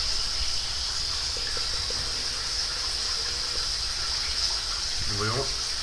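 Water sprays under a bathtub during leak detection, a steady hissing gush that fills the whole stretch at moderate volume, with a brief voice near the end.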